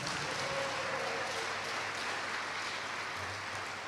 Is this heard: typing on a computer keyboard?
no